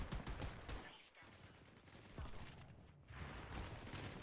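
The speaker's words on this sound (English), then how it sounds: "So that's the AR machine gun." An AR machine gun firing in the fast-paced shooter game Leap, with rapid bursts of distant-sounding gunfire blending with other battle noise, dense and continuous but faint.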